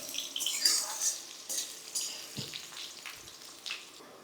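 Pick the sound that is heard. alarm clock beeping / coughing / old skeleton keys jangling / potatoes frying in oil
potatoes frying in oil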